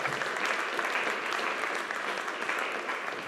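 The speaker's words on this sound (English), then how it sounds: "can we please give everyone who just received an award a big round of applause?" An audience claps at a school awards ceremony on presentation day, a steady, moderately distant wash of many hands applauding for award recipients, with no speech over it.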